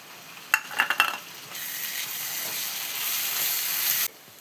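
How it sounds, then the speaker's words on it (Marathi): A ground green paste of coriander, mint, green chili, ginger, garlic and coconut drops into hot oil with a few sharp clatters, then sizzles in a steady loud hiss before cutting off abruptly. "ते आपण तेलामध्ये परतूया."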